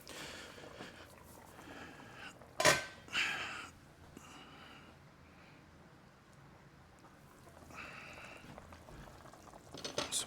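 Turkey and dumplings simmering in a pot give off a faint, steady low bubbling, broken by a couple of brief louder splashy pops early on and a light rise of activity near the end, with no talking.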